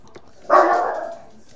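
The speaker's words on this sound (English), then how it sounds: "my dog keeps on barking" A single loud dog bark bursts out close by and trails off over most of a second, with no talking around it.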